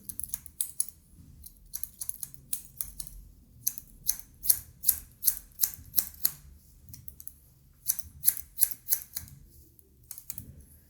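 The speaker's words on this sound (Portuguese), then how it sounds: "Você vai removendo com a tesoura." Scissors snip hair again and again during a taper fade haircut, crisp close cuts coming in quick irregular bursts with short pauses between them, no talking.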